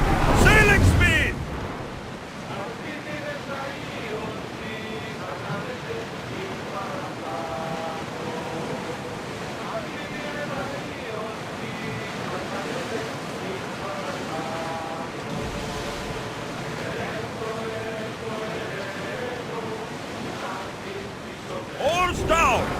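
A warship in Assassin's Creed Odyssey surges across the sea at full speed, with a steady rush of water and wind running under continuous crew voices and shouting throughout.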